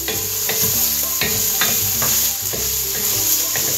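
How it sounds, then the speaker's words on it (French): Ratatouille vegetables cook over medium heat in a pan with a loud, steady sizzle, while a spoon stirs them in repeated rhythmic scrapes and knocks. "on va laisser cuire pendant 5 minutes à feu moyen. On mélange de temps en temps."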